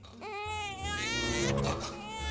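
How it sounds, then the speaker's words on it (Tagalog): A baby cries at close range in a long, wavering wail that rises and strains, continuous and loud with no other sound over it. "Baby, stop crying na."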